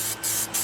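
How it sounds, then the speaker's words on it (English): Minwax polyacrylic sprayed from an aerosol can onto a yard tractor cargo carrier, two short close hissing bursts with a brief gap between them. "I'm just using a can of Minwax polyacrylic. Give it a couple of coats on both sides"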